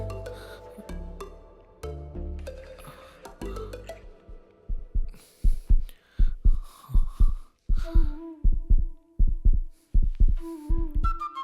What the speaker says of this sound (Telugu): ఏంటి గుండె చప్పుడు ఎక్కువైంది?